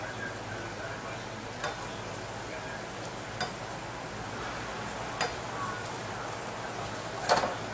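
Food sizzles and crackles steadily in a hot pan while it is stirred, a constant close frying hiss broken by a few light clicks and scrapes.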